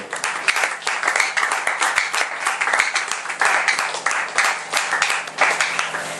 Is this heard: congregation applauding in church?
yes